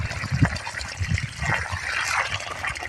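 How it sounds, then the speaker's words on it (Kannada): Water gushes and trickles steadily from a borewell pump outlet, a continuous splashing flow heard close by with no voices. "ಫಸ್ಟ್ ನೀರು ಬಿಡ್ತೀನಿ"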